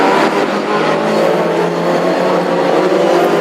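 Classic hot rod race cars roar down the back straight of an oval track in a pack, a loud, sustained engine drone with overlapping revving close to the listener and no talk.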